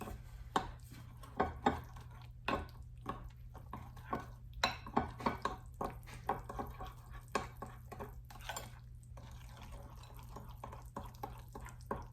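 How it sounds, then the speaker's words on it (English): A spoon stirs cookies and cream cookie batter in a bowl, giving soft irregular clicks and scrapes at close range, fairly quiet, with no talking. "you just want to continue to mix your batter really good"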